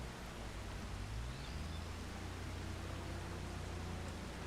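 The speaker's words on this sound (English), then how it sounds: "Oh, we're not supposed to do it in the rain." Steady rain in the Farming Simulator 25 video game, a constant even hiss of falling drops with a low rumble beneath, holding at the same level throughout with no talk.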